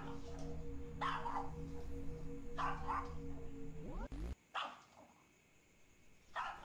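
A dog barks in several short, sharp bursts spread across the scene against a droning background hum that cuts off abruptly partway through.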